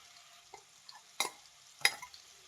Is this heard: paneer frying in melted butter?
yes